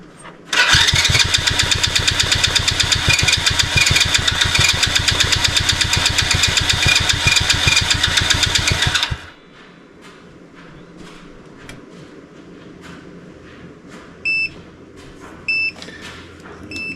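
A workshop engine cranks into life after choke and gas, running loud and fast with a dense, rapid rhythmic knock for several seconds, then cutting out abruptly; quieter clicks and a few short electronic beeps follow.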